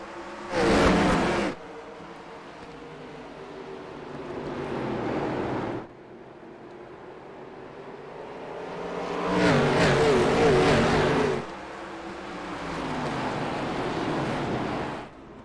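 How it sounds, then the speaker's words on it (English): Dirt track race car at Nashville Fairgrounds in a Scrambler Series 150 race, loud engine revving up through the gears in surging bursts, rising and falling as cars pass near and away, with no talk. "Listen to him come up through the gears."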